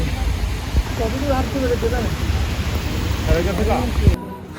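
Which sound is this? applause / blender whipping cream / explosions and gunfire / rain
rain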